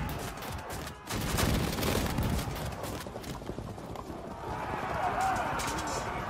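Massed gunfire crackles in the medieval battle strategy game Field of Glory, a dense, continuous rattle of volleys mixed with battlefield clatter that stays loud and unbroken throughout.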